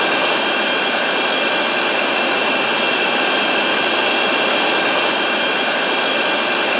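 Loud, steady jet engine roar from an aircraft fills the whole stretch without letup, a dense continuous rush with no speech over it.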